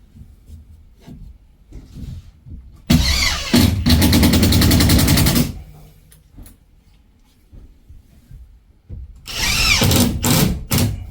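A power drill drives screws during a drywall repair in two loud bursts of whirring, a long run followed later by a shorter one, with quiet handling noises in between.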